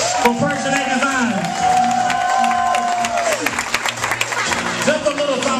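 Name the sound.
audience applause at fashion show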